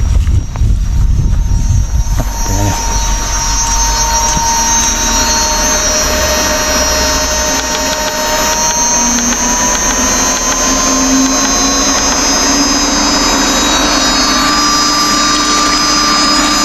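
A grass cutter engine runs at a loud, steady high-pitched whine, droning continuously without letting up and with no one talking.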